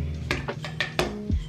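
A spoon stirs sangria in a pitcher, making several quick, close clinks against the glass and a soft swirl at the end.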